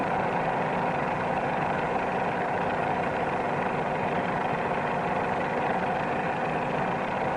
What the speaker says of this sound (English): Pull the nose up too high, you can hear the engine begin to labor.